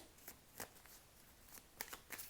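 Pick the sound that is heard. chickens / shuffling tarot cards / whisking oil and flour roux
shuffling tarot cards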